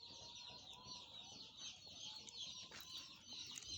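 Broiler chicks in a brooder give a dense, continuous chorus of high cheeping, fairly close and steady throughout with no voices over it.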